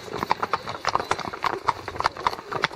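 Several horses ridden in a group along a blacktop road, their hooves clip-clopping in a steady, overlapping rhythm, close and clear with no talking.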